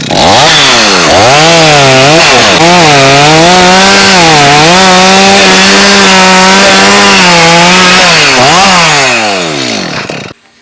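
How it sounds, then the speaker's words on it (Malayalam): A chainsaw cuts through a piece of coconut tree trunk, loud and close, its engine droning and rising and falling in pitch as it bites into the wood for about ten seconds before winding down. "അടുത്തൊരു പീസ് മുറിച്ചിട്ടുണ്ട്"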